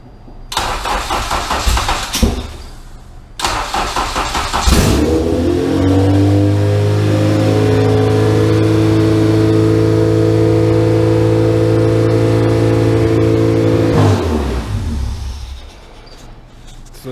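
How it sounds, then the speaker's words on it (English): A 2001-era Honda Civic Si (EM1) with a cut exhaust cranks over a few times, catches and fires up, then roars loudly into a raspy revving idle before settling and dropping away. "So we got the car started, guys."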